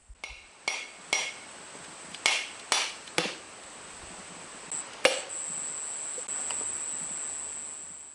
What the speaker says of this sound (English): Open the coconut and then either use a hammer or throw it on the ground like I do